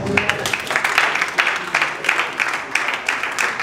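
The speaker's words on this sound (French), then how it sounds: "Le groupe de fanfare, sous vos applaudissements." Applause for a brass band at a festival stage, a dense wash of clapping hands from the crowd with uneven peaks running throughout, moderately loud and close, a voice faintly present beneath.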